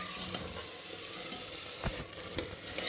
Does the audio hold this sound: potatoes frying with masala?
yes